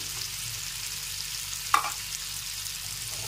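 Chicken legs coated in masala fry in a covered pan, making a soft steady sizzle with one sharp clink of utensil against pan partway through, and no one speaking.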